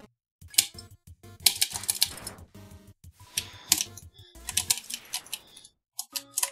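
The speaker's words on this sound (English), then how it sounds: "A clicking sound, that's my keyboard." A computer keyboard clicks in irregular bursts of quick, close taps and mashed keystrokes, separated by brief pauses, during a game of Undertale.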